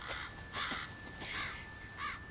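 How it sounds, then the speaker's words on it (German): Raven caws in the Resident Evil 7 video game: several harsh, rasping calls in short bursts, fairly close and clear, with no talking. "Schnauze, Rabe."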